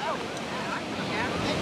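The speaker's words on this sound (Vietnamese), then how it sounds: "Chúng ta không nghe gì ngoài thứ tiếng rì rào của sóng biển." Ocean surf washing onto a beach, a steady broad murmur of waves with some wind, continuous and fairly close, with faint voices in the background.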